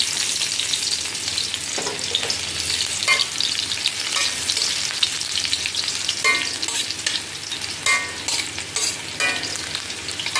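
Crushed garlic cloves frying in a pan, a steady bright sizzle with intermittent scraping and stirring knocks, close and continuous without any voices.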